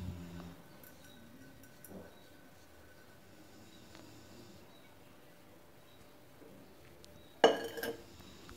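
A cooking pot for drumstick sambar set down in a home kitchen, heard as one sharp metallic clank with a short rattle near the end, after a long stretch of quiet room tone with faint scattered clinks.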